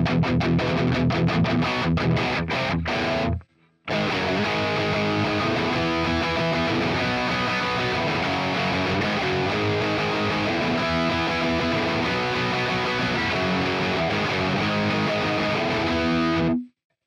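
Electric guitar played through a Quad Cortex, recreating a song's tone with a pushed amp for gritty crunch: loud, dense distorted chugging riffs with a brief break near the start, then continuous playing.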